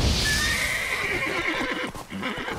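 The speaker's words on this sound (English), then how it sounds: "Man, my horse is too scared for me though." A horse in The Witcher 3 video game gives a loud, drawn-out neigh with a high whinny, followed by snorting and hoof clatter close by.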